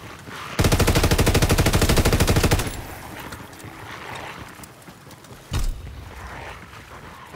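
Rapid machine gun fire in the Call of Duty WWII Zombies video game: a loud two-second sustained burst, then quieter game ambience with a short second burst near the end.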